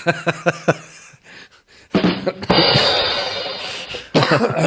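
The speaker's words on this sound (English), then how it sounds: "the joke makes me cough" A cluster of sharp coughs sounds close up, then a pause, followed by a person speaking.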